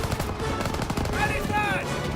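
Machine gun fire rattles in rapid continuous bursts in the Call of Duty WWII video game, loud and close, with a shouting voice rising over the barrage.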